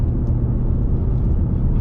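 Steady low rumble from a 2024 Ford Mustang GT Premium V8 while driving, a continuous dense drone heard close and from the cabin with no break.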